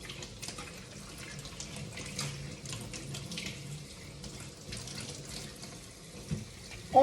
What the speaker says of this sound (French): Donc, on le passe sous l'eau.